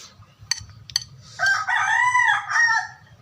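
A rooster crows loudly and close by, one long rising and falling cock-a-doodle-doo, after a couple of sharp knocks, with a low murmur of background noise underneath.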